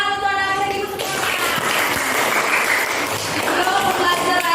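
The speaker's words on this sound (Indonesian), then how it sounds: "tepuk tangan untuk anak-anak ibu semua" A classroom of schoolchildren and their teacher breaks into lively applause after a short spoken line, the clapping building into a sustained, close patter that carries on to the end.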